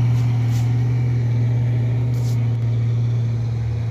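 A heavy truck engine drones steadily at a low pitch while losing power climbing the steep Batu Jomba incline, a constant deep hum with road rumble and no voices, laboring without letting up.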